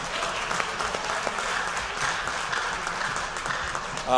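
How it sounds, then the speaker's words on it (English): Audience members at a fall sports athletic banquet applaud steadily, a continuous moderate wash of clapping from a roomful of people, fairly distant and even throughout. "So round of applause to them."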